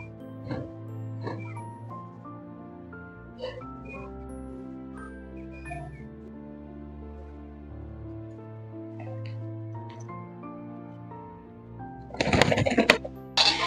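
Low, soft pigeon coos repeat several times at close range over a quiet background, followed near the end by a short burst of louder noise.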